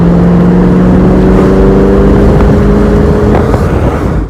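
A 600-horsepower Shelby convertible engine rumbles loud and close, a deep steady roar with a slight rise in revs, no talk.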